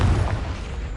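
A Confringo spell exploding in Hogwarts Legacy, one heavy low boom that rolls and fades over about a second.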